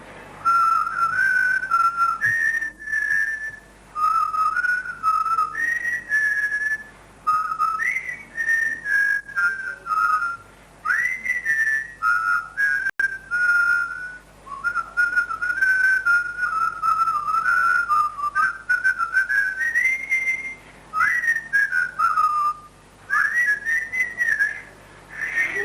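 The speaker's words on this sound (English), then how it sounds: "Then you just get the whistling." A person whistles a wandering melody for about 25 seconds, clear and close, with bright sustained notes broken by short breaths and gaps, and no talk over it.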